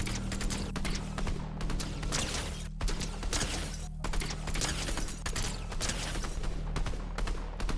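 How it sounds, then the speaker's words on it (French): Rapid gunfire in the video game Fortnite from a weapon firing two bullets at once, dense continuous shots with a steady low game hum underneath and no break. "ça tire 2 balles d'un coup."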